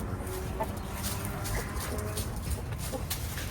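Chickens cluck softly in the background amid steady outdoor noise, a flock heard from a little distance.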